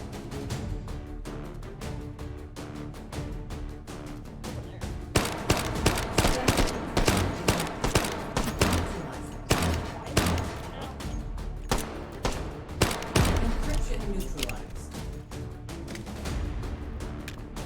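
Gunfire in the VR shooter H3VR, at first sparse, then turning into a loud, dense string of rapid shots that is later punctuated by separate bursts, with a voice talking at times underneath.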